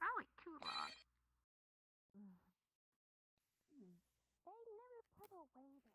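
A telephone rings inside a horror video game set in a nightclub, a warbling electronic ring heard in a few separate bursts with quiet gaps between them.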